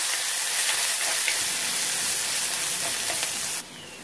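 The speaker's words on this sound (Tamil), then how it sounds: "இதோட வெங்காயம் நல்லா வதங்கட்டும்" Onions sautéing in a hot pan give off a steady, close sizzling hiss that continues without a break, then drops away sharply near the end.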